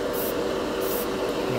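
Airbrush spraying Turbo Dork color shift paint for a final coat, a steady airy hiss that runs throughout with brief brighter bursts of spray, close and fairly quiet.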